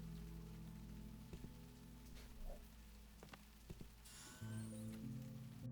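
Rain falling steadily as soft, constant patter in the Tales of the Neon Sea video game, heard faintly under a sustained musical drone with occasional light drips.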